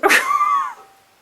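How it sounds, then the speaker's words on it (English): A single sharp bark or yelp, close and fairly loud, with a short harmonic tail that fades over about a second. "And dogs barking."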